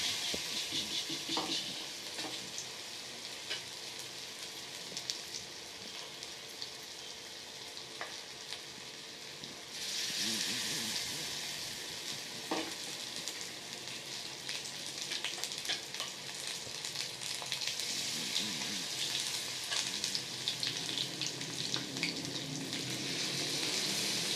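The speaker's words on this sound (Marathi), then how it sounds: "असं चमच्यानं एक एक पीस टाकून तळू शकता." Chicken pieces sizzle in hot oil for chicken chilli, a steady close crackling fry that grows louder and busier partway through as more pieces go in, continuing without talk.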